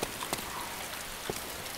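Steady rain hisses across the whole short stretch in the game DayZ, a dense even wash with a few louder drop-like taps, no voices over it.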